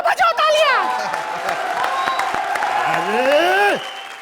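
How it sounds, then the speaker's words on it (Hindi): Studio audience of a comedy show bursts into loud applause and crowd noise, with rising and falling whistle-like whoops sweeping over the clapping before it cuts off abruptly. "इधर बजाओ तालियां"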